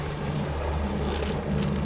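A fishing boat's outboard motor idles in a backwater of the upper Mississippi River, a steady low rumble with a constant hum running throughout, close and unbroken, with no one speaking.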